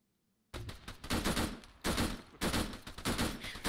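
Gunfire erupts in a military video game after a brief quiet moment, with loud, close bursts of rapid shots in several clustered volleys and no talking over them.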